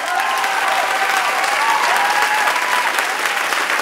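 A studio audience applauds a band after its live set on the 2006 Jerry Lewis Telethon, giving steady, dense clapping that stays even and loud throughout.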